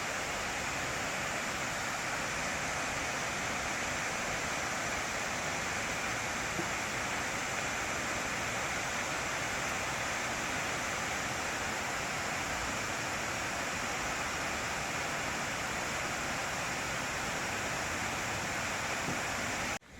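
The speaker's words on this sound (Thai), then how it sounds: "น้ำตกอยู่ตรงนี้" A waterfall in Mae Sot, Thailand, heard as a steady, dense roar of falling water that stays loud and unchanging throughout, with no voices over it.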